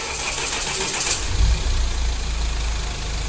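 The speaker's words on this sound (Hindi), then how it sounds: "अब हम इसका गाड़ी स्टार्ट करते हैं" A Mahindra XUV500 diesel engine cranks and starts after an overhaul, then settles into a loud, steady idle close by.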